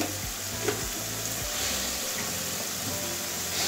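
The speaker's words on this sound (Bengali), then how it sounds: "এবারে সবগুলো একসঙ্গে ভালো করে কষিয়ে নেব" A taro curry with a pinch of sugar stir-fried in a pan, giving a steady close sizzle with a few spoon clanks and scrapes early on and no talking.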